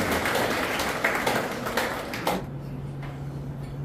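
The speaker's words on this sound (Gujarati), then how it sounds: "આપણે જોરદાર તાળી પાડી" An audience applauds at the Good Samaritan Award ceremony in Nadiad. The clapping is loud and dense, fades out after about two seconds, and leaves a steady low hum.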